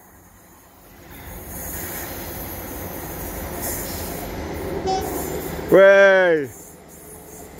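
A Class 158 diesel multiple unit passes through Dore and Totley station, its rumble swelling over a few seconds before a loud, tonal horn-like blast near the end. A voice is briefly heard.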